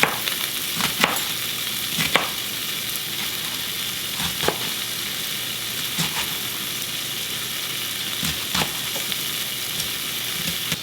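Sausages frying in a pan for a keto meal give a steady, close sizzle with a bright hiss. Brief clattering bumps from stirring or turning recur every couple of seconds, and no one speaks.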